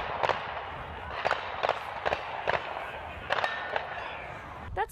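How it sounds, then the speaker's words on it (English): A string of sharp gunshots cracks out near a high school baseball game, roughly eight reports in uneven bursts, distant and echoing over an outdoor background hum. "That's the moment shots rang out Thursday near St. Rita Catholic High School"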